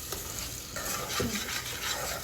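Brown sugar stirred in a pan over low heat as it begins to caramelize, giving a steady close scraping and soft sizzling that runs continuously without talk.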